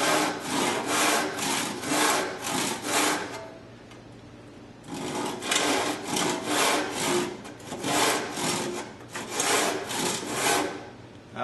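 Hand saw cutting wood for a garden bench, loud steady back-and-forth strokes in two long runs with a brief pause between, close up and without talk.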